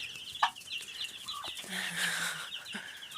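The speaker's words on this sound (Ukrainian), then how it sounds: "Є і курочки, і півники вистачає їм тут всього." Chickens and roosters cluck and chirp close by, several birds calling in short bursts, with high peeping chicks mixed in.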